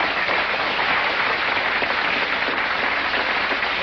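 An audience bursts into steady, dense clapping, sustained evenly at moderate loudness for a few seconds with no voices over it.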